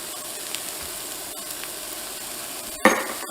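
Shallots, garlic and black pepper sizzle in a pan used for searing steak, a steady bright hiss with a sudden louder crackling burst near the end.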